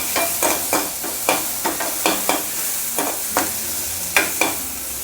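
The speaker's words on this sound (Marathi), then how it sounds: "कांदा थोडासा नरम पडे इतपतच जरासं भाजून घ्यायचं" Onion frying in a pan on the stove while a spoon stirs it, giving repeated scraping clinks every half second or so over a steady soft sizzle.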